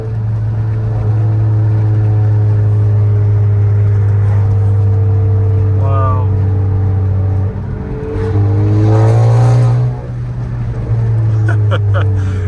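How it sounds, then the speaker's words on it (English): A tuned 2019 Honda Accord Sport 2.0T exhaust drones loudly at a steady low rumble, swelling into a couple of revs near the end, close to the listener. "But this is exhaust right now."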